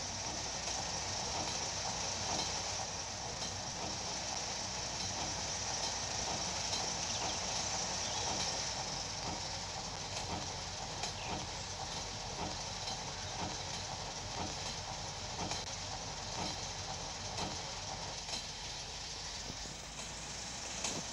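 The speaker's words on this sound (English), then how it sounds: "Looks like we're passing the tanker train." Steady rumbling roar of a tanker train passing in a train simulator video game, with continuous rolling wheel noise and rhythmic clacking, loud and unbroken throughout.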